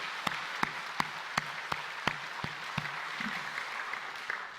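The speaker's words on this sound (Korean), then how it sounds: "모든 영광을 하나님께 돌리면서 영광의 박수 한번 드리겠습니다." A church congregation claps in response to the pastor at Cheongju Geumcheon Church, with a dozen or so sharp, separate claps spaced roughly evenly over several seconds rather than a dense wave of applause; the clapping is fairly quiet and indoors.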